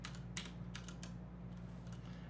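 Quick keystrokes on a computer keyboard as a search query is typed, a short burst of soft clicks near the microphone over a steady low hum.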